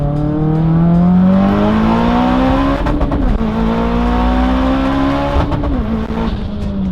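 Turbocharged car accelerating hard through the gears, a loud close engine note climbing in pitch, dropping briefly at each shift and then rising again, with a short rough break between pulls.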